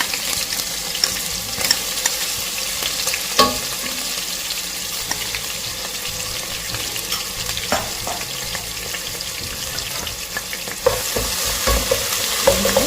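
Ginger and garlic sautéing in hot oil with a spoon of ghee, a loud continuous sizzle with scraping stirs and occasional clinks of the spoon against the pan, close up throughout.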